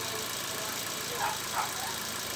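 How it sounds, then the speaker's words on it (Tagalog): A Ford EcoSport engine idles steadily as it warms up before a spark plug change, a continuous, even hum with a couple of faint mechanical ticks and no talking. "painitin nyo ho yung makina, no?"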